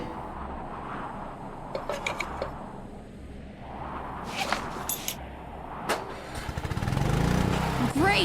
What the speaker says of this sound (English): Great! The engine's working!